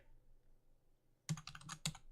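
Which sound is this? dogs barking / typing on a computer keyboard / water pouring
typing on a computer keyboard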